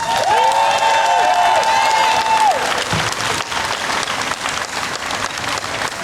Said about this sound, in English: Let's give Neal Jefferson a round of applause